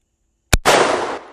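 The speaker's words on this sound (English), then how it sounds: "We all know that the .44 Mag packs a punch, and I'm shooting some 240 grain hollow points." A single loud, close rifle shot from a Henry lever-action .44 Magnum firing 240-grain hollow points at a shooting range: a sharp crack followed by a brief, bright roll of echo, with no voices.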